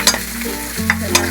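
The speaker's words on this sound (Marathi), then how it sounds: "भाज्या टाकून थोड्या परतून घेऊया." Vegetables sizzling loudly as they are stir-fried and tossed in a pan for restaurant-style chicken fried rice, with quick clattering stirs over a constant close fry.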